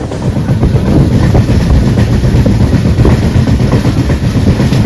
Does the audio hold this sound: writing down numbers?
no